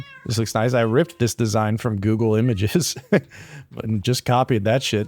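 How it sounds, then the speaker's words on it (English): Cats meow repeatedly in Minecraft, a string of clear, close, drawn-out meows from the game's friendly mobs that overlap with someone talking casually throughout. "let me turn the friendly mobs back up so you can hear the cats meowing"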